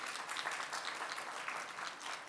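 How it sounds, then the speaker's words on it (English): A steady round of applause from a crowd, many hands clapping continuously at moderate volume with no voices over it. "Let's give Alexandria a round of applause."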